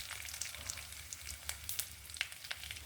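Urad dal, dried red chillies and cumin fry in a hot pan with a continuous close sizzle, scattered sharp crackles and pops bursting through it.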